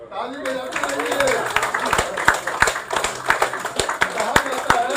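A crowd claps hands steadily for several seconds, a dense ragged patter with sharper slaps standing out, while a voice talks over the start.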